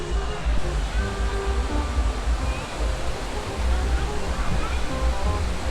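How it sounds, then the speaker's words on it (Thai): Wang Nen waterfall near Sung Noen, Korat, pouring steadily in a dense, continuous broadband rush of water, close and loud throughout. "บรรยากาศน้ำตกวังเนน"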